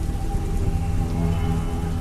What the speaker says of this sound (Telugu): బయట వర్షం మెల్లగా పడుతూ ఉంటుంది.